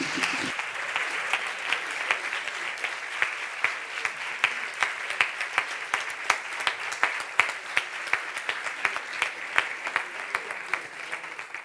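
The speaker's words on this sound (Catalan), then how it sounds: "Un aplaudiment, clar que sí." Sustained audience applause at a live science slam event, steady dense clapping from a crowd for about twelve seconds with a few sharper claps standing out, no talking over it.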